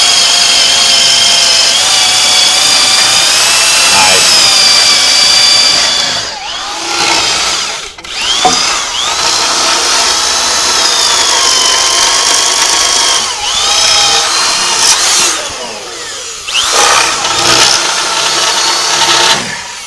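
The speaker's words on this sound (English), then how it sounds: "we're going to drill it right in there like this." A power drill whirs loudly into wood, with the motor's pitch dipping and rising as it bites, briefly slowing and then revving again.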